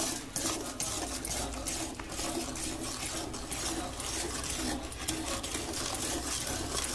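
Semolina and cardamom being stirred in a pan for coconut burfi, a steady scraping and shuffling texture that runs continuously at close range with no talk.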